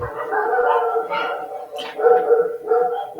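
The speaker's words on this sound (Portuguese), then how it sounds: "Tem um monte de cachorro latindo aqui." Several dogs barking in the background during an online seminar call, brief yelps and barks mixed with people talking.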